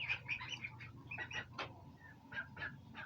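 Turkeys and ducks, kept alongside white broiler chickens, give a busy mix of clucks, gobbling calls and chirps while being fed on a small farm, fairly close with a low background hum.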